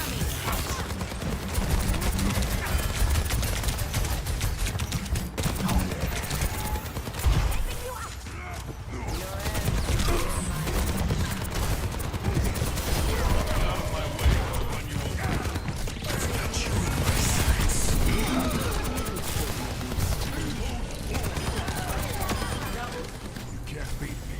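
Overwatch 2 rocket barrage ultimate firing in a match, a dense, continuous volley of rapid explosive bursts and mechanical clatter filling the mix, with voices talking over it.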